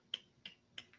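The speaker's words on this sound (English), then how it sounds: "Golf clap, well played." Three or four soft, isolated claps or snaps spaced evenly apart, quiet and close, a sarcastic golf-style clap with no other sound around it.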